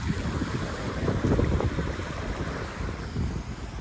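Rainwater from heavy rain rushes steadily and loudly through a drain, a continuous broadband roar with gusty wind noise buffeting the microphone.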